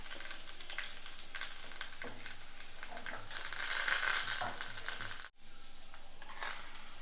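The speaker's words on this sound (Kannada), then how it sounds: "ಸಾಸಿವೆ ಸಿಡಿತಾ ಇರುವಾಗ ಸ್ವಲ್ಪ ಇಂಗು ಹಾಕ್ಕೊಂಡು ಕರಿಬೇವಿನ ಸೊಪ್ಪು ಹಾಕಿ ಒಗ್ಗರಣೆ ಆಯಿತು." Mustard seeds, asafoetida and curry leaves temper in hot oil, giving a steady close sizzle with scattered crackling pops, briefly louder as the leaves go in, with no talking.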